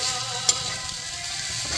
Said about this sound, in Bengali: এবারে একটু নাড়বো।